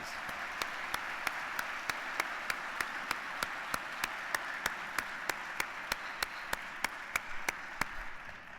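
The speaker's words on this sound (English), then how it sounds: "Let's recognize these 4 ladies with a round of applause." A lecture-hall audience at an evening event with Temple Grandin gives a round of applause, a steady wash of clapping with a few sharp, regularly spaced claps standing out, fairly faint and without talk.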